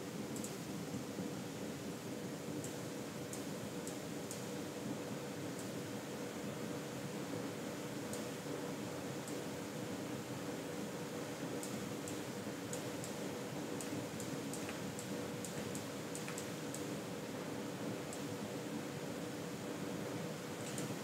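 An AMD Ryzen computer's CPU fan produces a steady, low, even whir with a faint hum, continuous and unchanging, with occasional soft clicks scattered over it.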